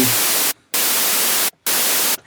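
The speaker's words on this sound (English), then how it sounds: "there's nothing happening to it, it's only white noise" Loud, flat hiss of white noise plays in three blocks, broken by two short gaps of silence.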